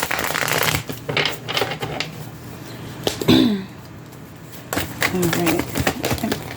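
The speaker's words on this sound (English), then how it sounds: "Give it another shuffle." A deck of tarot cards is shuffled in several quick riffling bursts, close and fairly soft, with a voice speaking briefly between them.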